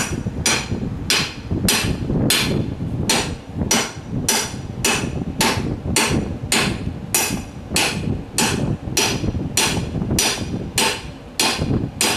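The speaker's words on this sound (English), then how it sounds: "got a little hammer here." Steady, rapid hammer blows on a truck tire ring out in an even rhythm, each strike a sharp metallic whack from a small hammer, continuing nonstop and fairly loud.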